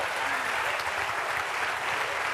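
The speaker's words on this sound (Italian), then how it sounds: "Speravo un applauso meglio, a Lucrezia, Pierfranco." Steady audience applause fills a university lecture hall, a dense, even wash of clapping that runs throughout at moderate volume.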